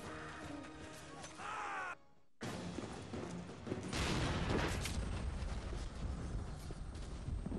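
A video game explosion in Sniper Ghost Warrior bursts into a broad, loud roar of debris and rumble after a brief silent gap, sustaining for several seconds.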